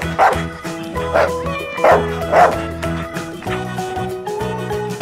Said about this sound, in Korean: dog, 강아지.